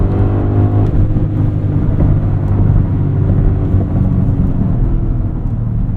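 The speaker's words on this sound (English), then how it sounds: "Classic V8 noises here." A 2024 Audi SQ8 V8 engine under way, a deep steady rumbling drone with road and cabin noise, heard close from inside the car with no talking.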